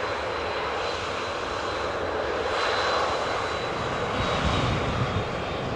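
Steady, broad roar of a KLM Boeing 737-900 jet airliner arriving at Amsterdam Schiphol from Lisbon, constant and fairly loud with a faint high whine, no voices.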